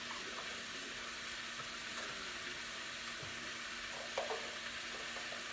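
Vegetable stock poured into a pan of sizzling jackfruit, a soft steady hiss and bubbling with faint splashy stirring, quiet and continuous with a couple of small clinks near the end.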